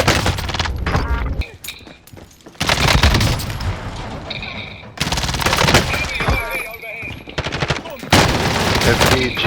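MAC-10 submachine gun fire in Call of Duty Warzone, loud rapid automatic bursts broken by brief pauses, with several separate volleys and sharp cracks across the clip.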